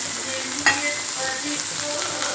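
Pirandai (veld grape) fries with tamarind in a pan, giving a constant hiss and crackle. A single sharp clink of a utensil sounds early on.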